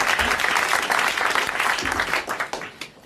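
A 1982 French television studio audience bursts into applause, loud dense clapping that holds for a few seconds and then thins out toward the end.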